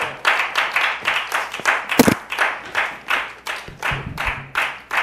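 Audience at a live open mic comedy show in Hollywood clapping, a brisk, fairly steady rhythm of individual claps from a small crowd, close and clear, with a couple of sharper knocks mixed in.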